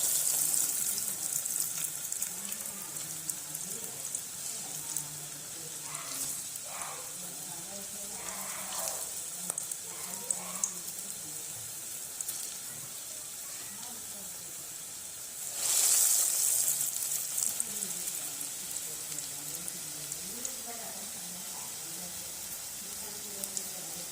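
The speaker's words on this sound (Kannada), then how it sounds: "ಇವಾಗ ಎಣ್ಣೆಯಲ್ಲಿ ಕರಿಬೇಕು" Breadcrumb-coated onion rings frying in hot oil give a steady, fairly quiet bubbling sizzle throughout, with a brief louder hiss partway through, and some soft background noise.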